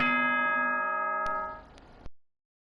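A school announcement chime in the video game Danganronpa: Trigger Happy Havoc, a clear sustained bell-like chord ringing and fading over about two seconds, ending with a couple of soft clicks.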